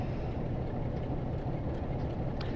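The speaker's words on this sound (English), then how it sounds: "Watching the 47 whiz by." A Class 47 diesel locomotive in the Train Sim World 2 game rumbles past on a Glasgow railtour, a steady loud low roar with a dense mechanical rush throughout and no voices.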